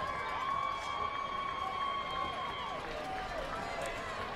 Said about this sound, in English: Crowd really getting riled up